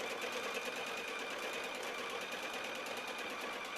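A Baby Lock TruStitch sewing machine motor runs as a steady, fast, faint whirring hum with rapid stitching rhythm, close and uninterrupted, no voices.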